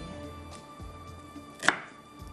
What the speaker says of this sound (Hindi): प्याज को भी हम इसी तरह से कट कर लेते हैं क्यूब में कटिंग कर लीजिएगा